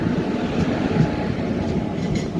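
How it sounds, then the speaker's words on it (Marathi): A passenger train hauled by a WAP4 electric locomotive passing on the Nizamabad–Pune route in rain, a loud continuous rolling rumble with faint wheel clatter, close by. "या ठिकाणी कोणती तरी ट्रेन क्रॉसिंग होत आहे, बघूया कोणती आहे. WAP4 लोकोमोटिव्ह सोबत"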